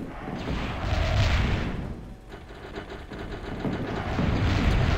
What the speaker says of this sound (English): Here comes the LC to bomb some stuff out.